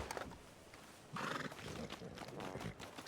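A horse whinnies and its hooves clip-clop on a street in Red Dead Redemption 2, a close, loud neigh rising midway over the steady hoofbeats.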